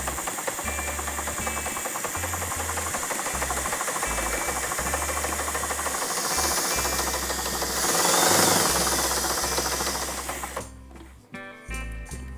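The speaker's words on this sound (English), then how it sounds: "we're just gonna sew along the edge with about" A sewing machine runs in steady, rapid bursts, stitching quilt fabric squares for a pinwheel block along the edge with a quarter-inch seam, loud and close with no talk, pausing near the end.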